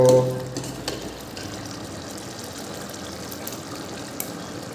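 Tomatoes cooking in oil in a pan for sev tameta shak, releasing their water: a soft, steady sizzle and bubbling that holds at a low, even level after a brief louder start.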